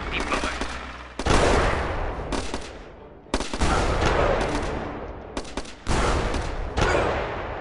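Gunfire from a gun turret in the strategy game Battle Islands: Commanders: loud, dense bursts of rapid shots in several volleys with brief gaps, close and continuous.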